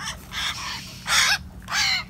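Young hill myna birds from Dak Lak give three harsh, loud cawing calls in separate bursts, close by, with a steady low hum underneath and no talk.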